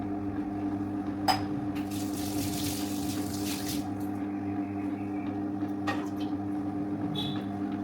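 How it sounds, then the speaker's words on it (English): Water is poured slowly into a running wet grinder dough kneader mixing chapati dough, a brief splashing trickle over the machine's steady motor hum and churning, with a few light clinks; close, no talking. "I need to add the water slowly"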